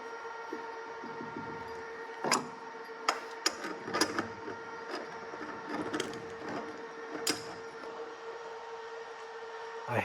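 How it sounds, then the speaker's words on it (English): A large crescent wrench tightens lock nuts on an off-grid fitting, producing scattered sharp metallic clicks and scrapes at irregular intervals over a steady mechanical hum, close by with no talking. "now I'm going to go and tighten down these. I'm going to call them lock nuts"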